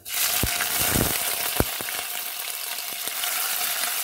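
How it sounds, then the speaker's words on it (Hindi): Cumin seeds, green chili, garlic and ginger sizzle steadily in hot oil for dhaba-style dal fry, with a few sharp crackles and spoon clicks over a continuous hiss. "तेल जब गर्म हो जाए तब हम इसमें डाल देंगे जीरा हरी मिर्ची लहसुन और अदरक"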